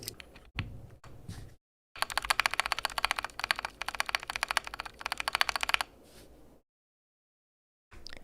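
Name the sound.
keyboard spacebar pressed, reversed for north vs south switch test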